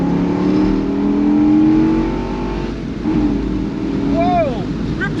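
A 2000 Dodge Viper RT/10 accelerates hard from second gear, its engine note rising loud and close with steady revving; a man's exclamation cuts in over it near the end.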